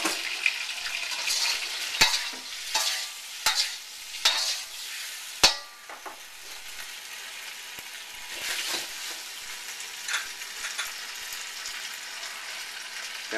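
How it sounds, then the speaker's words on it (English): Shrimp and scallops are stir-fried in a wok over a continuous sizzle, with several sharp metallic clanks and scrapes of a utensil against the pan at irregular intervals, close and fairly loud. "I put the shrimp and scallops back in the wok."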